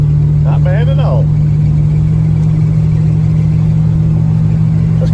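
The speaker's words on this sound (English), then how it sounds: "Car seems to be running better." A 1965 Dodge Coronet with a 360 V8 runs at a steady, loud idle, its deep hum constant throughout, with a voice speaking briefly near the start.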